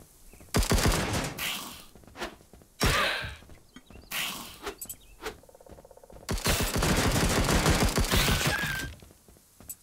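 A turret fires in the video game Dysmantle, sending out several loud bursts of rapid gunfire, the last one a sustained stream of shots, with brief gaps between bursts.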